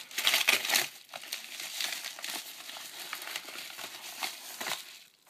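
Crinkling and crumpling packaging as a parcel holding an iPod shuffle USB dock is opened, with close, continuous rustling and papery crackles, loudest at the start and settling into steady handling noise.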